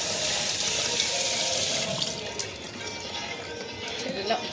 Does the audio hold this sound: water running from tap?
yes